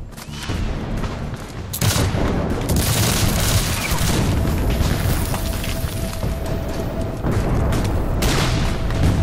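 A Civil War battle at Gettysburg rages with dense, continuous gunfire and booming artillery shell explosions, loud and chaotic throughout with no clear breaks and no talking.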